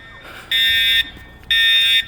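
A school fire alarm rings loudly nearby in two half-second electronic bursts separated by a short gap, over faint background noise.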